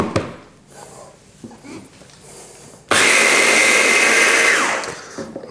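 A blender briefly blitzes a mint, basil and lemon sauce with sugar, starting abruptly after a few quiet kitchen noises and roaring loud and steady for nearly two seconds before spinning down.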